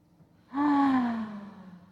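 A single deep breath is drawn in sharply through the mouth, close and clear, rising quickly and then tapering off over about a second.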